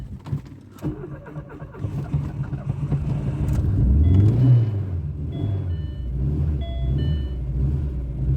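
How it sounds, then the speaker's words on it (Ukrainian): A VAZ 2115 car engine struggling to start churns and rumbles for several seconds, rising to a strained swell and then settling into an uneven low idle, loud and close, with faint chirps above. "Пробуємо завести машину."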